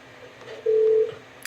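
A telephone in the Parasite Eve 2 video game gives a single steady dialing tone lasting under half a second, loud and alone over a faint hum, followed by a short click.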